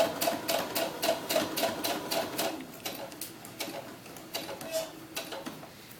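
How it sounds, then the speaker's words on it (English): A sewing machine runs a rapid, steady stitching rhythm while sewing a historical ball gown for a doll, with short bursts and pauses as it backstitches, loud and close with no talking. "Do a couple stitches, back stitch a couple, and then start sewing."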